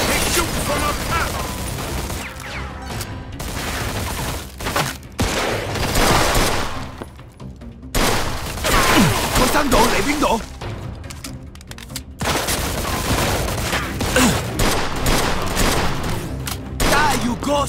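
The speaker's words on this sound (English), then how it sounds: "They shoot from up top." Gunfire in a Mafia II shootout, dense bursts of rapid shots and machine-gun fire in loud clusters separated by brief pauses, with game characters shouting over the action.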